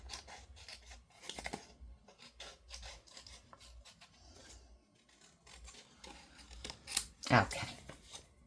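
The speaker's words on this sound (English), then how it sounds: "then you fussy cut, and you can easily, this is a quick and easy fussy cut" Scissors fussy cutting around a stamped cardstock design for a handmade autumn card, giving soft, intermittent snips and paper rustles close by, with a louder crisp cut near the end and speech around it.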